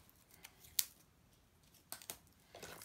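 Scissors snip through ribbon while a greeting card is being wrapped, giving a few quiet, sharp cuts spaced apart against a near-silent background.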